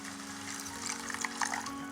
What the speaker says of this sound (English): I'll also add just a splash of water.